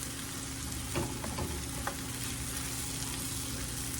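Country-style corn frying in a skillet, a steady low sizzle that stays even throughout, with a few soft scrapes and taps near the start.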